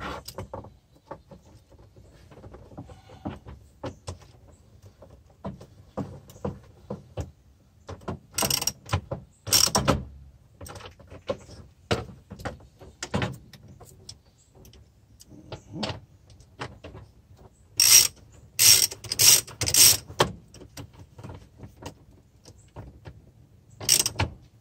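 A hand ratchet clicks in several quick bursts while snugging the radiator shroud bolts on a truck, with clanks and quiet mechanical handling between the loud, close runs of clicks.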